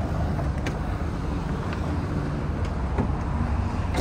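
A Lancia Musa with a carburetted petrol engine idles at the exhaust, a quiet, steady low rumble recorded up close with light wind and no speech.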